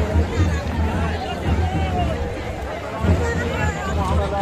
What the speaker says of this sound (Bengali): বন্ধুরা দেখতে পাচ্ছেন কি পরিমাণ ভিড় এই ঠাকুরনগর মেলাতে